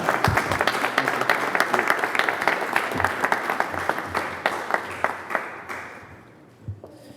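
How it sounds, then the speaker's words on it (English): Audience applause at a mayoral press conference fills the room, steady clapping that holds for several seconds, then thins out and stops near the end. "You can clap for him."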